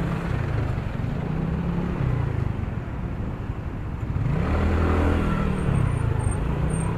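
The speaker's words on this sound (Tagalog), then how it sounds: "Kaya ito, puro traffic na." Road traffic heard from a motorcycle rider's camera: a continuous, fairly close rumble of car and motorbike engines, with revving swells and passing vehicles, no talking.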